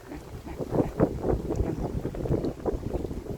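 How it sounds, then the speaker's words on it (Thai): Strong wind buffets a boat on open water, a loud, steady, rough roar with gusty swells and no voices. "โอ้ยลมมากเลยลมแรงมาก"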